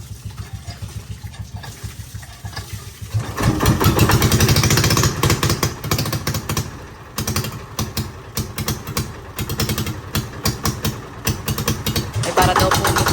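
A water pump's motor engine starts up after a quieter stretch, then chugs loudly and close in a fast, even mechanical rhythm until the end.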